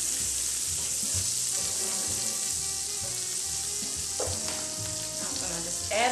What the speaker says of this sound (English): you can take it to the skillet and cook it in butter, which I'm about to do